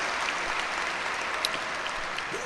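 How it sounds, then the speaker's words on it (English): Steady, dense applause from a large audience at a Central Senior High School graduation ceremony, continuous and even for the whole stretch with no voices standing out. "Yes, a big round of applause."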